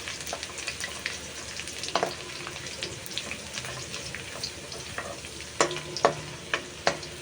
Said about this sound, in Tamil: பூண்டை நல்லா செவக்க விடுங்க